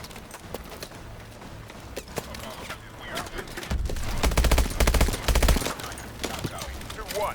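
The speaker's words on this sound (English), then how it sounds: "We'll give you some suppressing fire." Gunfire in the Call of Duty: Advanced Warfare video game, a clatter of sharp shots and bursts that builds into heavy sustained fire mid-clip, with voices talking over the battle.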